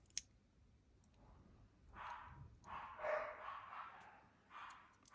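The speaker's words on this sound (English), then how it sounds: "The dogs are crazy, but they're playing" Dogs playing indoors, a few excited yips and short barks in quick bursts, moderately near and fairly soft, with no talk over them.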